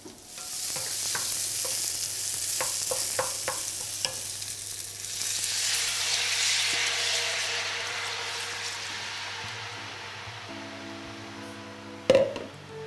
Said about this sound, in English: we are going to fry off these onions